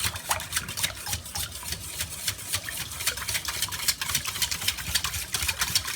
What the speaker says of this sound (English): We will take that whisk and whisk this together again, making sure to beat the egg.